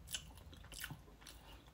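Crisp bites and crunching on fried shrimp, shell and tail included, a few sharp close crunches followed by quieter chewing, with no talking.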